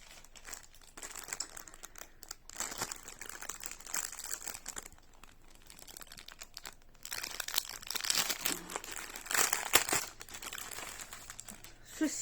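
Packing paper crinkles and rustles up close as a Shein haul package is unpacked, with irregular crumpling bursts growing busier and louder midway.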